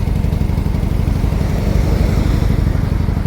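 An old motorcycle engine runs steadily up close, a continuous loud low rumble with a fast pulsing beat and no pauses.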